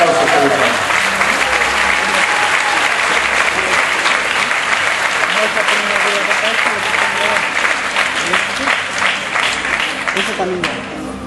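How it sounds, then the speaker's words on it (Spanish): A church congregation at a Sunday service in Madrid claps loudly and continuously, a thick crowd applause that holds steady and eases off slightly near the end. "Dale un fuerte aplauso a Dios."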